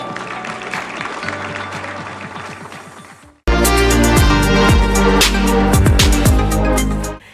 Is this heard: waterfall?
no